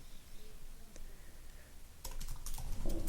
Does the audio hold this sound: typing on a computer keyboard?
yes